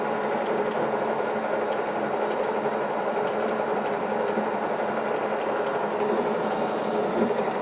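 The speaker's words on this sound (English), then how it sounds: "It's making that sort of rumbly noise, you know, the way it's cutting" A hub grinding machine cutting metal hubs gives off a steady rumbly drone with a faint mechanical whine, constant and close for the whole stretch, no talk.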